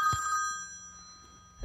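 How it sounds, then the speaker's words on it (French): A phone rings with a steady electronic tone, fairly close, then stops as a thump or handling noise follows. "Je connais pas, mais c'est un portable."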